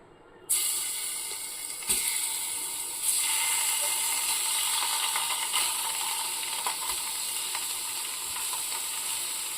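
Paneer pieces drop into a pan over low heat and a sudden sizzle bursts out, then settles into a steady hiss with a few more surges as more pieces go in, close and clear without speech.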